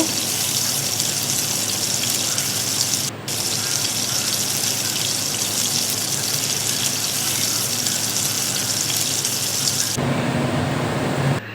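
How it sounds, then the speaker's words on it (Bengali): Boonde, small gram flour drops, deep frying in hot oil, giving a loud, dense, steady sizzle that fills the whole stretch, with a brief dip early on and a shift in texture near the end. "এবারে আমি ভাজতে শুরু করলাম। বোঁদেগুলো ভেজে নেব।"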